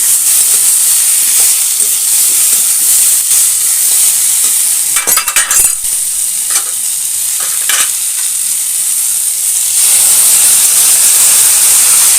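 Steady frying sizzle of fish and vegetables in a hot pan, continuous and fairly loud, with a few clinks and stirring scrapes partway through.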